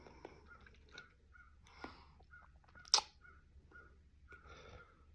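A crow cawing outdoors, with a few separate faint calls spaced across a quiet background and one sharper, louder sound near the middle, and no talking.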